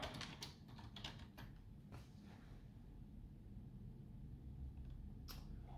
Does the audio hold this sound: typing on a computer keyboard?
yes